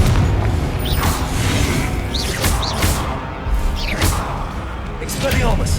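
Confringo fire spell blasts in the video game Hogwarts Legacy: loud, dense booming impacts and crashing thuds with sharp whooshing bursts, repeating over a constant busy combat din, with voices mixed in.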